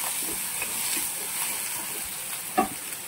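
Samosa filling of boiled potato with green chillies and leaves browns in a hot pan, a soft steady sizzle and hiss with light stirring taps and one sharper knock near the end, without speech.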